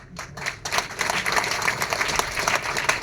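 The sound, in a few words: audience applause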